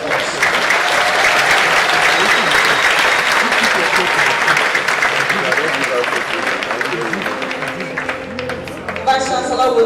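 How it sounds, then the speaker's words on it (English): A university audience applauds at an inaugural lecture with loud, sustained clapping that slowly fades toward the end, as voices and other sounds begin to emerge underneath. "Please let us together give him another round of doctoral applause."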